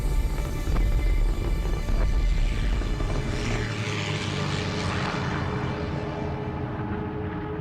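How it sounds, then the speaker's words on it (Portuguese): Loud roaring propeller engines of Second World War warplanes diving to attack Japanese positions, passing close overhead, the drone shifting in pitch as the planes sweep by, with no voices. "Nossos aviões mergulhando, atacando as posições japonesas."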